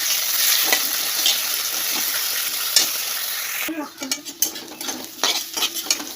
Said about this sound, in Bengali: এবার আমি পেঁয়াজ পেঁয়াজগুলো দিয়ে দেবো পেঁয়াজ কুচি আমি ভাজা ভাজা করে পরে মশলাটা দিয়ে দেবো